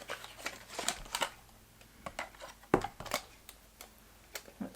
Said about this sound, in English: get the scissors onto it